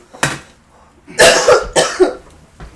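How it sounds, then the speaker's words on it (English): An adult woman coughs a few times up close. One short cough is followed by a pause and then a cluster of harsher, rapid coughs. "I do still have a little bit of a cough."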